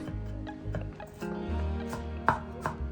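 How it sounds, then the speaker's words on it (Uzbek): Sweet bell pepper, garlic cloves, onion and herbs being finely chopped with a knife on a board, a few distinct chops and taps at an uneven pace, close and clear, without speech. "Nachinkasi uchun ozgina shirin bulg'or qarampiri, 2-3 ta tish sarimsoq, piyoz hamda ko'katlarni mayda to'g'rab olishimiz kerak bo'ladi."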